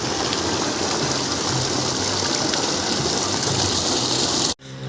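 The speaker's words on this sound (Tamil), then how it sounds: "நல்லா ஃபுல் ப்ரெஷரில் வந்துக்கிட்டு இருக்குது தண்ணி" Water gushes at full pressure from a freshly serviced BLDC motor pump, a steady loud rushing stream that holds constant before cutting off abruptly near the end.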